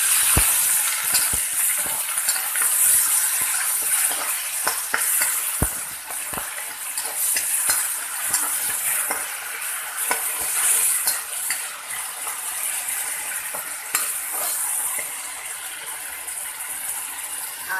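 Onions fry in a pan with ginger and garlic just added. The crackly sizzle is steady and close, broken by occasional scraping stir clicks, with no talking.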